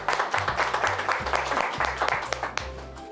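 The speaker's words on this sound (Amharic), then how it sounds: "ለራሳቸው አጨብጭቡ" A group of children clapping for themselves in a classroom, a steady ragged patter of hands lasting a few seconds, close and fairly loud, with low voices and background sound underneath.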